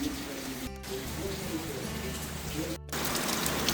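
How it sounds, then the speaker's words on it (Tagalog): Steady, dense hiss of heavy rain pouring continuously, briefly dipping twice before returning at full strength. "tignan nyo yung panahon no, malakas yung ulan"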